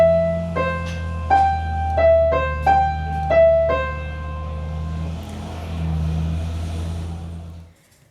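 "The Last Post" is played slowly on a piano keyboard, with distinct sustained notes over a steady low held tone. The melody is close and clear, and the final notes ring out and fade to silence.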